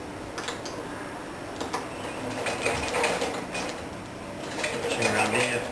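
A sewing machine stitches heel liners into men's brown leather boat shoes, with rapid mechanical ticking bursts near and moderately loud, while a person talks over it.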